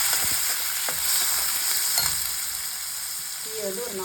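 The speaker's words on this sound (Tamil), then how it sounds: "இப்போ எண்ணெய் காஞ்சிட்டு இறாலை வந்து போட்டு நல்லா அப்படியே ஃப்ரை பண்ணணும்" Prawns frying in hot oil in a pan, a continuous close sizzle and crackle with scattered pops and a few utensil clicks, no talking.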